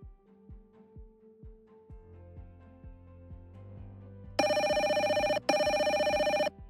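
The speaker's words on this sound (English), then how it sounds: "A new call has come in" An incoming call rings on the GoTo desktop soft phone app: soft rhythmic ticking tones build up, then a loud electronic ringtone sounds in two bursts with a brief gap between them.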